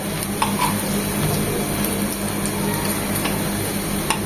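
Pumpkin leaves fry in a pan with a loud steady sizzle, broken by light scattered clicks and taps of a utensil turning them, with no talk.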